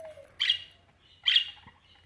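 A green budgie gives two short, bright chirps close to the microphone, about a second apart, in an otherwise quiet room.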